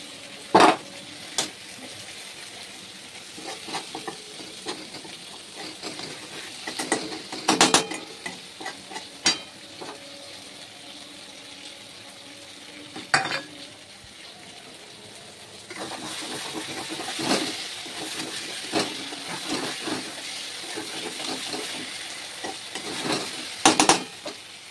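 Spice paste stir-fried with potatoes and pointed gourd in a pan for a Bengali tilapia curry: a steady low sizzle with repeated scraping and clinks of a spatula, growing louder and denser toward the end.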